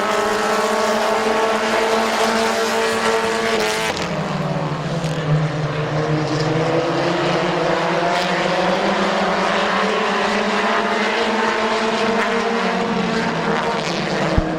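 Race cars roar through a heat race at Midvale Speedway, a loud, continuous engine drone with pitch sweeping down and up as cars pass close by, no talk over it.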